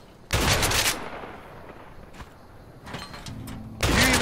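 Gunshots in A Way Out, one loud close burst, then a scatter of fainter shots and clatter, ending in another sharp loud burst.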